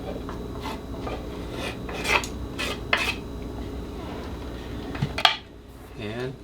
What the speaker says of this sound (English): And give it another mix.